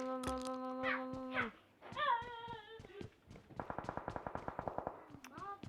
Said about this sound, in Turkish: Silah sesleri geliyor adamlar birbirlerini vuruyor.